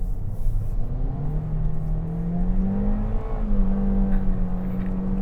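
A 2025 Toyota Corolla FX sedan accelerates hard with its wheels spinning, its engine droning loudly and steadily while the pitch climbs, dips and rises again as it revs.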